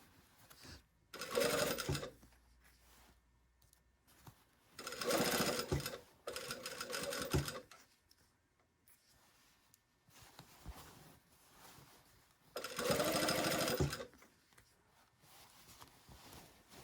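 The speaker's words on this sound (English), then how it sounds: "Careful sewing over pins here because that can create a pinch" A sewing machine stitches a sleeve over pins in three loud whirring bursts of rapid needle chatter, each a second or two long, with quiet handling of fabric between runs.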